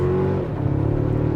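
Engine of a Toyota Tacoma pickup truck droning from inside the cab as it accelerates, with a steady hum that dips briefly and then climbs again.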